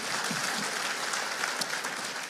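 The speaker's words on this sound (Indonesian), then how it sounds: "Berikan tepuk tangan kita untuk Tuhan kita." A church congregation claps steadily in a dense wash of applause during a sermon, holding at an even level from start to finish.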